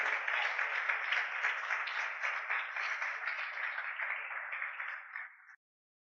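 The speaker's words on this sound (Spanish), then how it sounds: "Aplauda a Jesucristo." A church congregation claps together at a Spanish-language sermon, a dense, steady burst of applause that runs about five seconds and then cuts off sharply.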